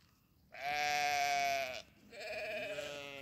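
Goats bleating twice in the dark, a long loud wavering call followed by a second shorter one, close by and clear over a quiet background.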